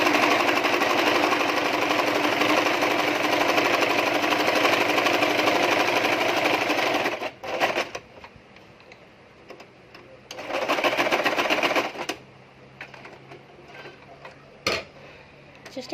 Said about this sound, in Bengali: এখানেও আমি ডাবল সেলাই দিয়ে দিচ্ছি।